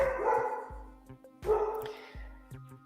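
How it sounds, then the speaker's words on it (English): A pet dog barks somewhere in the house, several sharp barks at uneven intervals, fairly close and clear with only brief room noise between them. "just in time for my dog to start barking"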